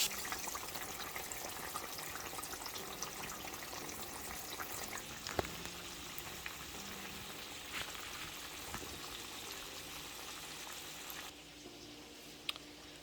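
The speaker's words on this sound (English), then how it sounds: "While the fish is frying," Breaded fish frying in a pan in oil, a steady dense sizzle and crackle continuing throughout, fairly faint, with occasional clinks.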